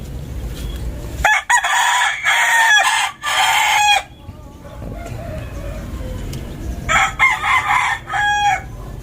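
Gamefowl roosters, brothers sired by the same father and tethered in a yard, crow loudly and close by in two long bursts separated by a quieter gap with faint background clucking.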